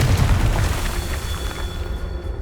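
A Confringo fire spell blast in the Hogwarts Legacy video game, a loud, deep booming explosion that starts strong and rolls on as a sustained rumble through the whole moment, with no talking.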